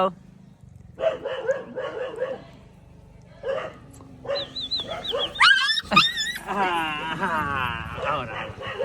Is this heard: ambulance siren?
no